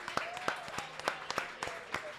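An indoor audience in a restaurant claps for the servers in a modest, rhythmic round of applause, with individual claps standing out from a soft murmur of voices.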